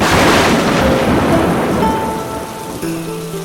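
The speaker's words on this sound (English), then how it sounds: "the voice was lost amid the deafening sound of rain" Pouring rain from a thunderstorm hisses loudly and steadily, with low thunder rumbling beneath it before the downpour eases slightly, while faint tonal sounds drift in near the end.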